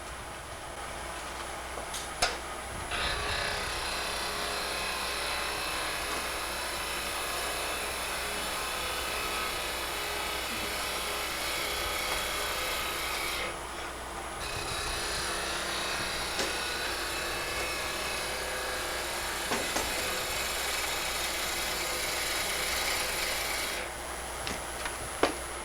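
A wood lathe runs at about 1800 RPM while turning a small ring box, giving a steady whirring drone with a high tonal whine throughout and occasional faint scraping of the tool against the wood.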